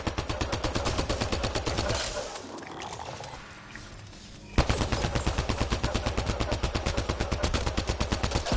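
Rapid automatic gunfire in the game Mass Effect Andromeda, a steady loud stream of shots that breaks off for about two seconds, then resumes just as densely, with no talk.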